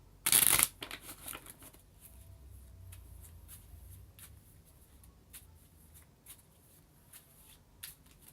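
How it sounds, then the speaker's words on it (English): Card decks shuffled by hand, oracle cards among them: a sharp riffle burst at the start, then quieter soft slides and light taps of cards continuing close by, with no talking. "let me just shuffle a bit and focus on your energies"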